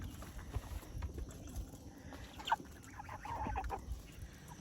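Chickens, including meat birds, cluck softly at a homestead feeding bowl, low murmuring clucks with a few sharper calls, close by over a rustling background.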